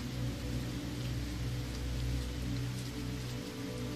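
Steady, soft rainfall under a rainy sky, an even hiss with no breaks and no talking. It stays faint and constant the whole time.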